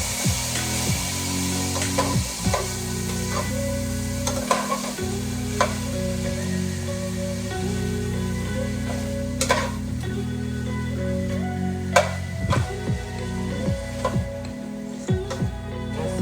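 Chicken stir fry with celery sizzles steadily in a frying pan while a utensil scrapes and stirs it, giving repeated close scraping strokes and small knocks over a constant frying hiss.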